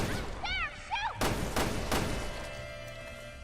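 Gunshots in Resident Evil Revelations 2: three sharp, loud cracks spaced about a third of a second apart, following a few high warbling game cues over a low ambient background.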